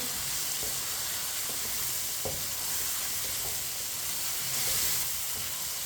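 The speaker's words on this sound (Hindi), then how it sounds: "चम्मच चलाते हुए भून लेंगे।" Diced potatoes fry in a pan for matar pulao while a spoon stirs them, giving a steady, close, continuous sizzle with faint scraping throughout and no talking.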